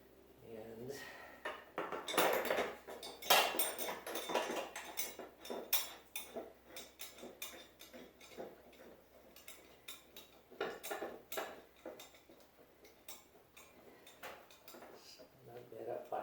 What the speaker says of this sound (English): we can simply put the blade back on the mower